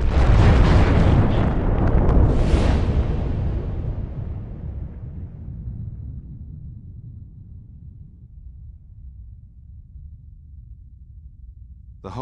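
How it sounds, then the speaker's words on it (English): A supernova explosion effect: a huge roaring blast that swells, then slowly rumbles down into a long, fading low boom over many seconds, ending with a brief sharp crackle. "They call it a supernova, an explosion so bright it outshines entire galaxies."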